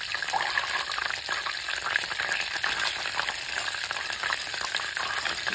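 Raw milk cream boils into ghee in a pan, giving a steady soft sizzle and bubbling crackle with faint stirring, fairly quiet and without talk.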